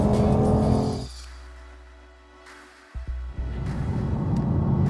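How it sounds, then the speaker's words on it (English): A BMW i8 sports car's muted V6-style engine note, partly generated through a speaker, rumbles loudly, fades into a quieter lull with a couple of brief knocks, then swells back into a steady, strong drone. "Think of it as a sort of muted V6 noise."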